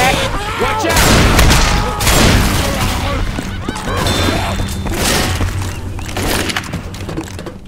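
Gunfire in the zombie shooter Left 4 Dead 2: loud, dense bursts of shots mixed with heavy thuds and crashes, with voices shouting over the action.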